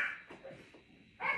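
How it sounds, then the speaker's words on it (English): Dogs bark at each other during outdoor training, two brief bursts at the start and end with a fainter yip between, moderately distant. "Don't mind those other dogs barking."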